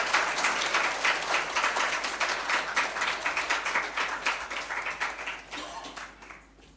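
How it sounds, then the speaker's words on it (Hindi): A crowd at a Brahma Kumaris World Environment Day event in Borivali applauds to welcome a guest actor, with dense, vigorous clapping that holds steady for several seconds before thinning out and fading at the end. "हम जोरदार ताली से उनका स्वागत करते हैं।"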